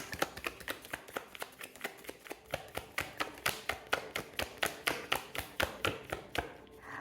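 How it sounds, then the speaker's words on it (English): Tarot cards being shuffled in a steady series of crisp, rhythmic slaps and riffles, close up and fairly loud, with no talking. "All right, 3 shuffles."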